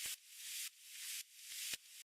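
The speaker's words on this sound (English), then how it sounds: "it's just like some vinyl dust or something like that" Vinyl dust crackle layered over a bright hiss that swells and cuts in three pumping waves, with a few sharp pops standing out, quiet and alone.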